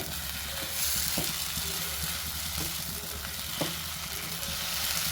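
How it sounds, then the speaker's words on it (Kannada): Egg roast frying in spicy masala in a pan over a low flame, a steady close sizzle with a few soft stirring scrapes and taps, no voices. "ಒಂದು ಎರಡರಿಂದ ಮೂರು ನಿಮಿಷ ಈ ಮಸಾಲದಲ್ಲಿ ಇದನ್ನ ಫ್ರೈ ಮಾಡ್ಕೋಬೇಕು ಕಮ್ಮಿ ಉರಿ ಇಟ್ಕೊಂಡು"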